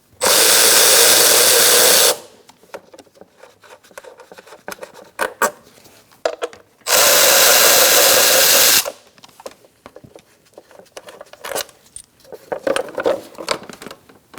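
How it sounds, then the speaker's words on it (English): On a 2002-2006 Honda CR-V, a power tool with a 10mm socket whirs loudly in two sustained bursts of about two seconds each, with scattered metallic clicks and rattles of bolts and handling between them. "Using a 10mm socket, we're going to take off this plastic cover with these two bolts."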